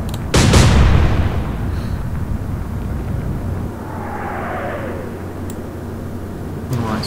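Naval gunfire in an Atlantic Fleet warship game: one loud, close cannon boom at the start that decays into a long rumbling tail, followed by a faint whistling shell flight and a steady low engine-like drone.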